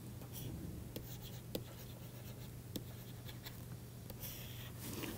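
Chalk or pen writing out a theorem during a lecture, a continuous faint scratching with occasional sharper taps, close and quiet over a steady low hum of room noise.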